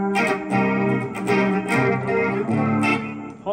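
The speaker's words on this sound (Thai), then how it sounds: "เดี๋ยวผมจะใส่ตู้เฟนเดอร์เข้าไปปึ๊บ" Electric guitar played through a Zoom G5n multi-effects unit with a Fender amp cabinet simulation, a rich chorused, lightly distorted tone with sustained chords and notes ringing continuously for a few seconds, no talking.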